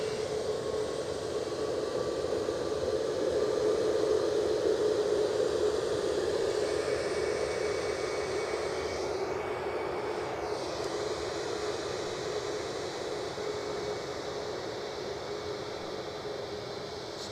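A Boeing 737 Max 8 taking off at Edinburgh Airport, its jet engines a loud, steady roar held at a distance for the whole stretch, heard alone.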